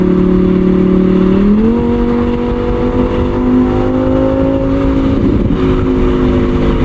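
A 2021 Lamborghini Huracán EVO Spyder with a 7-speed dual-clutch transmission howls loud and close while driving, its engine note climbing sharply in pitch, holding a high sustained wail, then easing slightly as it shifts.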